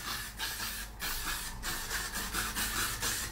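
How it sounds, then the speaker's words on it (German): Got2b spray glue is sprayed onto styled hair in repeated hissing bursts, several short puffs in quick succession, close and fairly loud with no talking. "Zu guter Letzt dann noch einmal den Sprühkleber benutzen von Gatobi"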